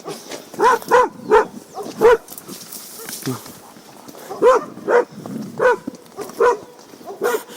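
Several dogs bark in quick bursts, loud and close, with short pauses between volleys and some yipping mixed in.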